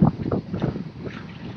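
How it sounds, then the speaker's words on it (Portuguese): Strong, cold wind gusts in the Andes mountains at Portillo, Chile, buffeting the microphone with a close, rumbling roar. "Está ventando bastante também."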